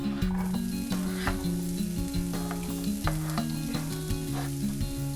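Onions are added to fragrant frying garlic in a pan for a bean stew, and a strong close sizzle and spatter carries on beneath a steady, tuneful musical backing.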